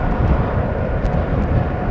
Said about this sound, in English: Also a very quiet airplane.